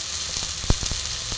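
Thin strips of pumpkin hit a hot oiled pan and set off a steady, close sizzle. A single soft thump from the drop stands out near the middle, followed by a few light scrapes.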